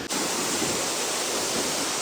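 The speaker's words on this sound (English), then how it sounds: "We're now gonna go behind this waterfall, seeing the waterfall from all angles." An Icelandic waterfall pours in a steady, dense roar of rushing water, loud and unbroken from start to finish with no voices over it.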